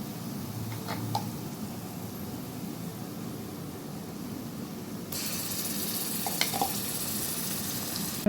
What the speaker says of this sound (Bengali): রসুন আদা ফ্রাই হয়ে গেলে